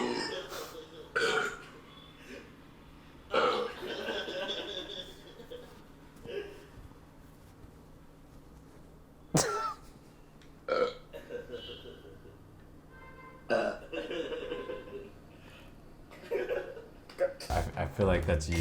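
Several separate burps of varying length and loudness, some short and sharp, others longer and rumbling, spaced out through the clip with quiet gaps and occasional voices between them.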